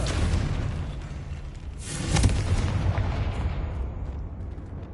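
Loud blasting-spell explosion in the Hogwarts Legacy video game, a dense roaring burst that swells near the middle and rumbles on, decaying slowly with no speech over it.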